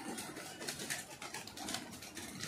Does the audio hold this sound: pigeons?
yes